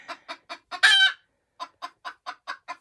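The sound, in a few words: naked neck chicken hen clucking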